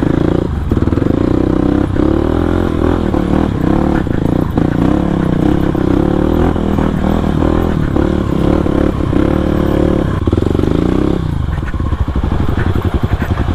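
A supermoto motorcycle climbing a steep mountain trail toward Puncak Upas on Tangkuban Parahu, its engine loud, close and continuous, with rough clattering and gear changes throughout.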